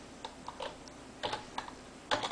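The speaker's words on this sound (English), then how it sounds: "So you're typing in amoxicillin" Scattered keystrokes on a computer keyboard as amoxicillin is entered, landing in small irregular bursts of soft, close clicks with short pauses between them.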